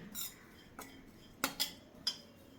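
A spoon scrapes dry-roasted coconut out of a pan in a few short metallic clinks and scrapes, spaced irregularly across a couple of seconds, close and fairly quiet.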